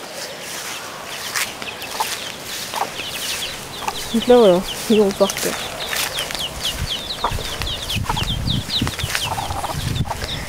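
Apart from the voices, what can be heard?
hen clucking with chicks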